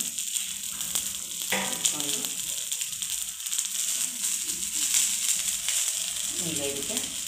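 Okra coated in masala sizzles as it roasts in a pan, a moderate steady hiss with some scraping, while someone talks over it at intervals.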